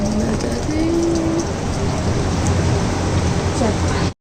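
Light rain falling, a continuous soft hiss of drizzle with faint patter, steady throughout; a bird call and a distant tonal whistle drift in briefly, and the sound cuts off abruptly at the end.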